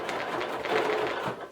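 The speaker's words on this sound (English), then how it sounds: "stitching in the ditch so you can't really see it along the area of that giraffe" Sewing machine quilting a giraffe-themed quilt, stitching in the ditch, producing a steady, continuous mechanical whir with a faint rhythmic pulse throughout, close and moderately loud.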